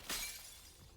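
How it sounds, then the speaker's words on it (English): A glass bottle shatters under a hard stomp in a video game, one sharp bright crash followed by a short tinkling decay, close and alone with no talk. "With a fierce stomp, she shatters the glass bottle that lay strewn on the ground."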